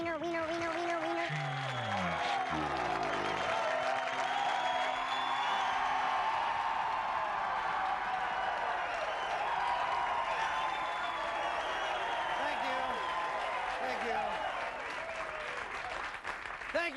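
An excited studio audience breaks into loud, sustained applause with whoops and cheers, a dense wall of clapping that holds steady for the full stretch.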